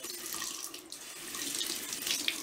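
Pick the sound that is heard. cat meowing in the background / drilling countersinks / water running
water running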